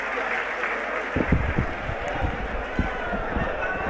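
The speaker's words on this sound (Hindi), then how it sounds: "तालियों की गड़गड़ाहट" A crowd at a JJP political rally in Rohtak applauds, with broad, continuous clapping and crowd noise building after a quieter start, and voices audible beneath.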